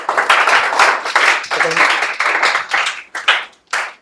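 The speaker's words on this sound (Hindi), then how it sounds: "ताली बजा दीजिए आप लोग" An audience at a Class 10 board results celebration claps together, dense rapid hand claps in bursts that fade and stop near the end, loud and close.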